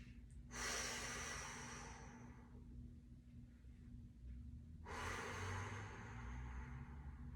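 A person breathing during a seated chair yoga stretch, one long audible inhale and exhale, a pause, then a second deep breath, close and soft over a low background hum.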